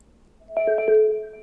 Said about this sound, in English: Was that not the phone ringing?